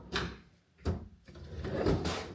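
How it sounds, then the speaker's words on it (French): A sliding drawer tray in a wardrobe is pulled open, giving several close sliding and knocking bursts, a short one, then another, then a longer scraping run, with no talk. "Plateau coulissant"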